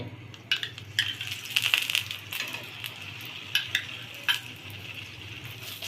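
Potato-stuffed paratha frying on a griddle with a steady sizzle of oil, a few clinks and scrapes of a spatula, no talking.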